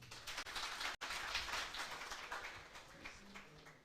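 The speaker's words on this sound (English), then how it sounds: "kindly join me with a big round of applause" Sustained applause from a crowd at a moot court competition, dense clapping that holds steadily and then gradually thins out toward the end.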